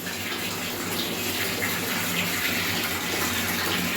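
Tap water pours steadily into a bathtub at home, a continuous broadband gush that stays even and fairly loud throughout with no talking.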